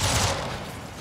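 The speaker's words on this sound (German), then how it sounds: "Schöne Schüsse." A burst of gunfire in Jagged Alliance 3, a rapid volley of shots right at the start that decays into a short rumbling tail.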